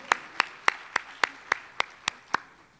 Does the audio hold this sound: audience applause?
yes